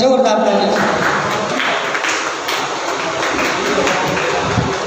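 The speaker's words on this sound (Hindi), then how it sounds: "जोरदार ताली" An audience at a Hindi poetry evening applauds a guest being welcomed, with sustained clapping that swells, briefly dips and then continues steadily under a faint mix of room voices.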